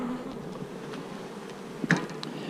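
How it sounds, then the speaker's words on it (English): Honeybees drone around a queenless hive, a soft, continuous buzz with individual bees passing close by now and then, one louder near flyby toward the end. "we've got all these bees field force out right now. They're gonna come back in here to this queenless hive."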